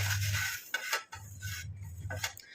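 Black cumin seeds being dry roasted in a pan, with steady scraping and rubbing as a utensil moves them against the metal in several passes broken by short pauses, close and moderately loud, with no voices.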